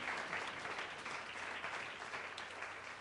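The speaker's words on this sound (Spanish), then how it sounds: "Den un aplauso al Señor." A church congregation applauds steadily throughout, a dense wash of many hands clapping at moderate volume with no pauses.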